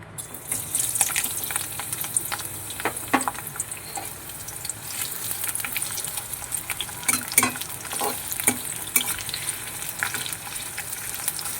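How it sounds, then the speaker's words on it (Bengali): Chopped onion and garlic frying in hot oil in a heated pan, a steady close sizzle broken by scraping stirs and spatter pops, with no talk. "কড়াই গরম হয়ে গেছে এখানে আমি দিয়ে দেব পেঁয়াজ এবং রসুন কুচি"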